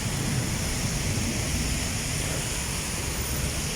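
Heavy rain pours down in a dense, constant hiss after a typhoon, loud and unbroken from start to finish, with no voices.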